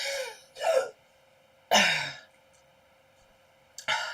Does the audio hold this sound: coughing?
yes